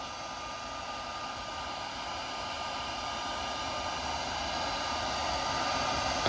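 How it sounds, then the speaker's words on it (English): A blower or hair dryer runs steadily and close, giving a loud continuous airy rush with a faint tonal hum and no talking. "oh, that's for the blower."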